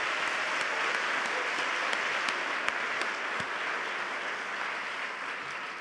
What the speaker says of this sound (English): Can we give them a huge round of applause for their support?